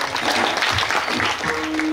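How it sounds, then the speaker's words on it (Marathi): A crowd claps for a Maharaj at a gathering, a dense two-second burst of applause, loud and even, with a voice speaking over it. "महाराजसाठी एकदा जोरात टाळी वाजवा"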